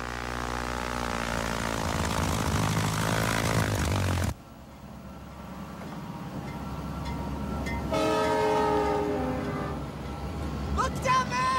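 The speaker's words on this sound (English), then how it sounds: "I see his train!" A train passes with its horn sounding, a loud sustained tonal blast that cuts off abruptly, followed by rumbling movement and another rising horn-like tone, with voices speaking over the scene.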